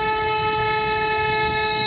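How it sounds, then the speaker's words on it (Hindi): A car horn sounds in one long, steady, loud blast through a driving lesson on a ring road, held unbroken from start to finish with no talking over it. "हॉर्न दे देंगे"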